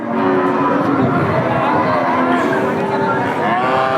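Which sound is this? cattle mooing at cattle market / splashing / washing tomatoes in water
cattle mooing at cattle market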